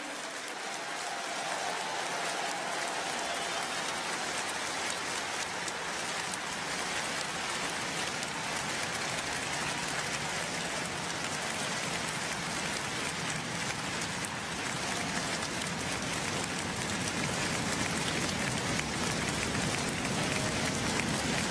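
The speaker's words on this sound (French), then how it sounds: "Vous pouvez les applaudir." Large crowd at a political rally in Lille applauding and cheering for French soldiers, a dense continuous roar of clapping and voices that fills the whole stretch at steady loudness.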